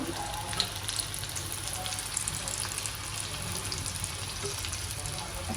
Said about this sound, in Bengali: এখন এটা ভাজা হোক